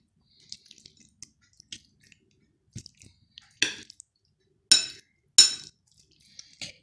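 A lemon is squeezed for juice over kiwi jam in a quiet kitchen. Scattered soft wet squishes and drips come in short bursts, with a few louder squelches, close and alone.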